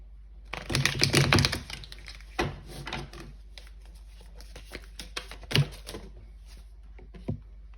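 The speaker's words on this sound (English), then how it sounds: "We're gonna put some tarot cards." Tarot cards are slapped and laid down one after another on a table, producing sharp close clicks and soft shuffling taps at an uneven pace, with no talking.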